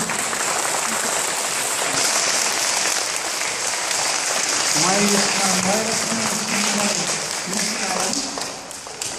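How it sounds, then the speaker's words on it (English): An elementary school audience claps and cheers in a sustained burst of applause while a voice speaks briefly over the noise. "Everybody give them a round of applause as they come up."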